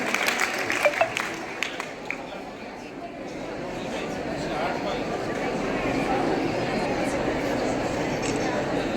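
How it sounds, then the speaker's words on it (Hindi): A school audience at a parent-teacher meeting applauds student Anisha Kumawat, the head girl: a few scattered claps at first, then a dense, steady wave of clapping from many hands that swells and holds to the end. "अनीशा कुमावत, एक बार जोरदार ताली उनके लिए"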